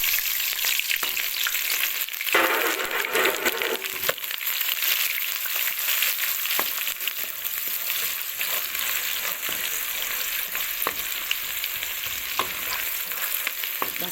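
Onion fries in half a cup of oil for a green fava bean and meat dish, a loud continuous crackling sizzle that swells after a couple of seconds, with occasional stirring knocks and no talk.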